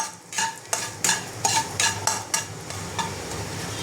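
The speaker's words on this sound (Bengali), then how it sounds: "একটুখানি কালো জিরে ভাজা ভাজা করে নেবো" Black cumin seeds fry in a pan while a spoon stirs them, making a soft sizzle broken by repeated scraping strokes against the metal in an uneven rhythm, close and fairly loud.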